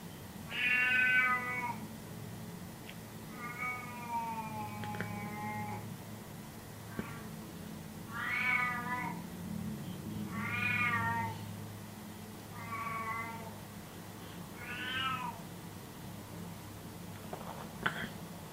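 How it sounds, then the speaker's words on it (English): A pet cat meows repeatedly indoors, about seven drawn-out, fairly clear calls spaced a couple of seconds apart over a low steady background hum. "that's just my spasticated cat"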